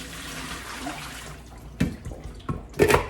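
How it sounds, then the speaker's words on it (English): A kitchen strainer basket is lifted and its water is dumped out, giving two splashing gushes after a quieter stretch of running water. "you want to take out the strainer portion and dump out the water."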